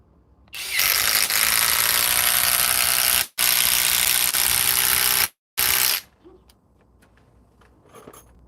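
A Skil PowerCore 20 cordless power tool, rated around 1,800 inch-pounds and fitted with 5-inch power legs, runs in three loud, steady whining bursts that cut off abruptly, then near-silence follows.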